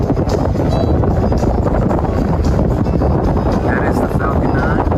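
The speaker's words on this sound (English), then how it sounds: "Besides it being a little windy" Wind blows outdoors in a steady, loud rush that buffets the microphone with low rumble for the full five seconds and never lets up.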